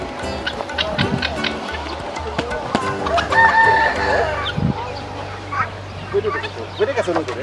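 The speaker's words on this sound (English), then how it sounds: "Hey, guinea fowl." Guinea fowl and other poultry at a Philippine nature park calling with repeated harsh clucks and cackles amid rooster-like crowing, close by, with people talking over the birds.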